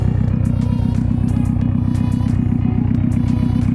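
A 2018 Subaru WRX STI engine idles loudly and steadily up close, with a low, rhythmic rumbling pulse that holds throughout and no talking.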